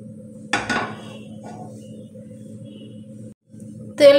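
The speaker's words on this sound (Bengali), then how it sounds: "দিয়ে তেলটা সব জায়গায় ঘুরিয়ে ঘুরিয়ে সব জায়গায় মিলিয়ে দেব।" A frying pan, with a little mustard oil swirled around it before frying mourala fish, gives a sharp metallic clatter near the start and another near the end, separated by a steady low hum.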